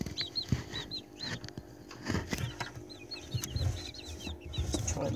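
Five newly hatched chicks in a brooding box give repeated high, rising cheeps throughout, close by, with soft rustling and shuffling beneath.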